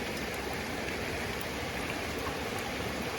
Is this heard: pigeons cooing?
no